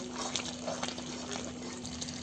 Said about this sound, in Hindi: अब मैं इसमें पानी डालूंगी